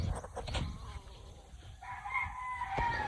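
A false spark gray rooster crows once, close and fairly clear, with a drawn-out call in the second half over light background noise and no talking.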